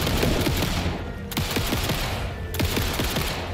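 Gunshots in Alan Wake 2, a steady run of rapid repeated shots in short bursts with slight pauses between volleys, fairly close and sharp over a constant rumbling background, with no speech.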